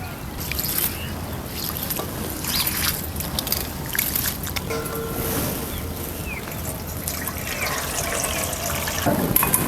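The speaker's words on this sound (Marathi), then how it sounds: "आता मी स्वच्छ धुवून घेते पाणी घालून" Water sloshes and splashes steadily in a container, with swirling and trickling sounds as basmati rice is rinsed by hand, continuous and fairly close.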